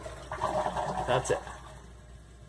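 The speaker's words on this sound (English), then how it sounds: "Here's a regular flush on this one." An American Standard Champion 4 toilet gives a short, weak flush: a brief rush of water lasting about a second, close by, with someone speaking over it.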